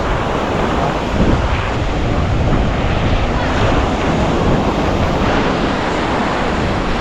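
Sea waves washing onto a shore, a steady loud broadband roar of surf with wind buffeting the microphone throughout, no clear breaks between waves.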